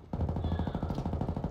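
Rapid automatic gunfire in a video game, a fast even burst of shots close and loud, running continuously for over a second without talk.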